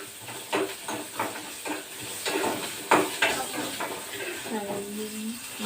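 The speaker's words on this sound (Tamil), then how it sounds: "நல்லா எண்ணெய் நிறைய ஊற்றி அந்த எண்ணெயிலேயே இந்த சின்ன வெங்காயம் நல்லா வதங்கிடணும்" Small onions sauté with urad dal in plenty of hot oil in a pan. Steady nearby sizzling is broken by repeated scraping stirs, and a voice speaks briefly near the end.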